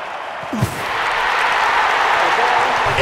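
Applause from a large stadium crowd at an Olympic men's long jump event in Rio, a brief low shout at first, then a broad, sustained roar of clapping and cheering that holds steady to the end.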